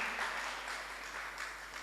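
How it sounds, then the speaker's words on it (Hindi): Audience applause for a doctor at a Jain religious discourse, a steady wash of clapping at moderate-to-faint level, sustained throughout without pauses. "डॉक्टर साहब के लिए तालियां बजाएंगे"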